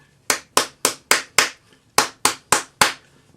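A hammer strikes the edges of a metal cuff bracelet held over a round ball, nine sharp ringing blows in a quick, fairly even rhythm, loud and close with no talking.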